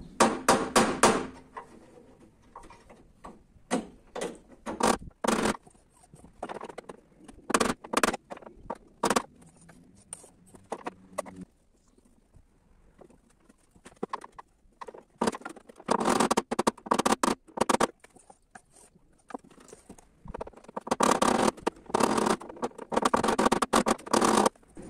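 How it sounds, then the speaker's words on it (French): Sharp, irregular metal knocks ring out in dense bursts as a hammer is driven against the inside of a dented car body panel, with short pauses between flurries of blows, close and fairly loud. "Donc on va essayer de taper comme ça depuis l'intérieur."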